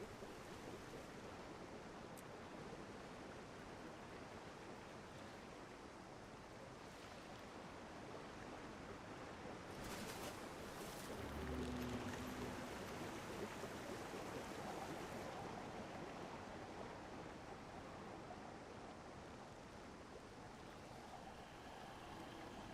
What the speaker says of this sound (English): Got a bunch of waterfalls here.